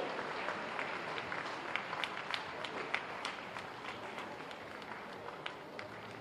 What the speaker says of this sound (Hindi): तालियों से हौसला बढ़ाइए, आशीर्वाद दीजिए।